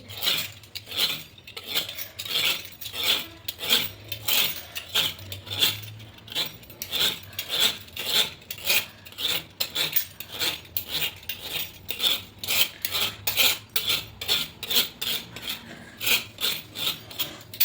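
Paratha dough being cut on a board, a steady series of sharp rasping scrapes and taps repeating quickly and evenly, close and fairly loud, with no talking.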